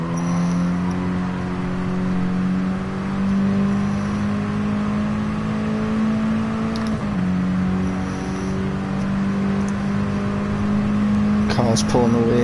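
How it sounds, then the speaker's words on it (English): Mini Cooper race car engine in Gran Turismo Sport, a steady loud droning whine held near constant pitch, with a brief dip around a gear change and faint tire and track noise underneath. "Car's pulling away."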